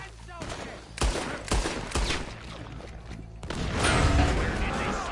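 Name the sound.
gunfight in Red Dead Redemption 2, video game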